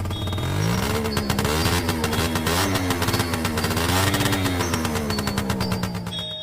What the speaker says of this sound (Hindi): बुल्ली स्कूटर को थोड़ा और तेज कर देता है।